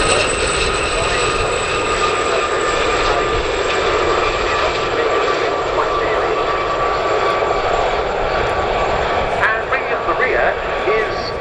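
Gazelle helicopters of the Gazelle Squadron flying a display at RAF Cosford Airshow 2024, a steady loud engine and rotor drone with whining tones, heard from the crowd line with faint voices around.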